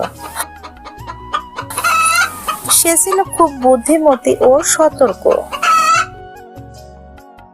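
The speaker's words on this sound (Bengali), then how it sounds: "তার একটি মুরগি ছিল।" A hen clucks in a series of short, rising calls, with a crowing-like cry near the end, in a cartoon farm story; a narrator speaks over the bird sounds.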